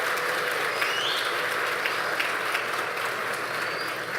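Steady clapping from an audience at a formal council session fills the space, a dense, continuous round of applause at moderate volume.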